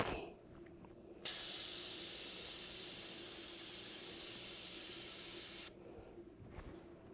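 A sandblaster running on weak air pressure gives a loud, steady, airy hiss for about four seconds. It starts and cuts off abruptly between quieter stretches of background noise, and no one speaks.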